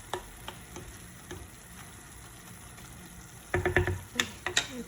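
Veal and onions sizzle softly in a pan for a tajine with chickpeas, with sparse taps at first, then a cluster of sharp scraping clicks from stirring toward the end; no talking.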